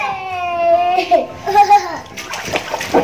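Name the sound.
water splashing as a child swims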